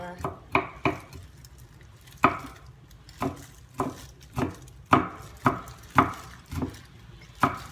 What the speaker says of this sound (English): I'm going to chop this garlic